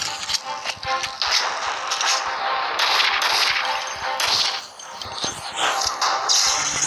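Gunfire from a zombie shooting video game, a dense, continuous clatter of shots and crashing impacts with no clear pauses, loud throughout.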